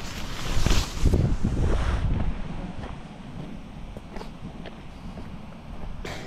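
Strong typhoon wind at a wilderness motorcycle campsite buffets the microphone in loud roaring gusts during the first two seconds, then eases to a lower, steadier rush with occasional faint bumps.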